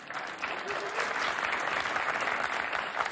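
A studio audience claps steadily in a dense, continuous wash of applause, moderately loud and unbroken for the whole stretch.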